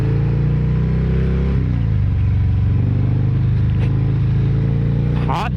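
A 2019 Harley-Davidson Fat Bob 114 being ridden on a cold day without a fairing, its V-twin rumbling loud and steady up close under wind noise, with a gear change partway through.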